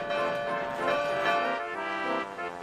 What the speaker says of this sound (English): The track was getting bumpier, and the bell chimed louder.